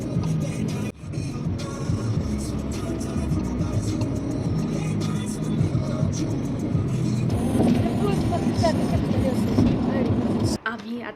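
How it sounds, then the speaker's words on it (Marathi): Road traffic heard from inside a car on a long highway drive, a loud continuous engine and road rumble with passing vehicles, while a voice speaks over it. "And see the traffic."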